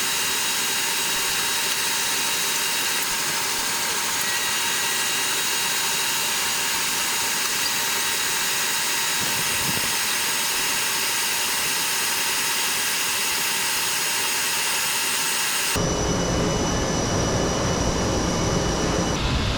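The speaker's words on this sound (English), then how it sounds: "Printing adhesive vinyl on a wide format printer." Wide format printer printing adhesive vinyl for A-frame signs, a steady mechanical drone and whir that holds evenly for a long stretch before shifting abruptly to a different machine tone near the end.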